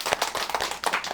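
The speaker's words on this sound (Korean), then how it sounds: "먼저 주님께 영광의 박수를 드리겠습니다" Congregation at a church youth gathering clapping together, a brief burst of quick, fairly even hand claps at moderate distance with no talking over it.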